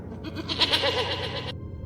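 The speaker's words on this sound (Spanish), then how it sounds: "el balido de una cabra" A goat bleats in a livestock-raising area of the desert, one wavering, nasal cry lasting over a second, fairly close and clear over a faint steady background.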